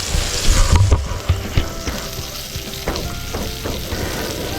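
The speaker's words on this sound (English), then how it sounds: "They're frying pretty good." Fried mush and bacon frying in a pan, crackling and popping close by with irregular spits and bursts over a steady sizzle.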